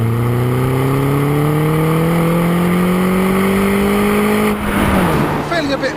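Mini John Cooper Works roadster engine on twisty roads, holding a steady droning tone that slowly rises, then dropping from sixth to third with a sharp blip and a rev flare near the end, loud and close.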